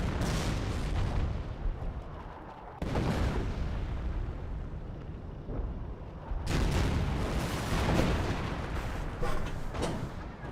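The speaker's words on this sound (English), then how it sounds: "I think one of these artillery shots may stray a little bit too close to these guys" Artillery shells land in a Company of Heroes battle, dense rolling booms and blasts layered over a continuous wash of gunfire and battlefield rumble, loud and sustained throughout with a brief dip before the barrage swells again.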